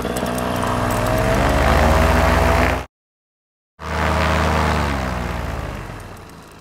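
A Vittorazi Moster 185 paramotor engine runs at quarter throttle during break-in, a loud, steady close-up buzz that cuts out abruptly for about a second before resuming at the same pitch and fading slightly.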